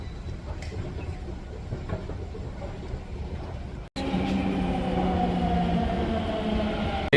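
A Delhi metro train runs with a steady low rumble; a sharp break partway through gives way to a louder, denser run with sustained tonal whine, heard close from inside.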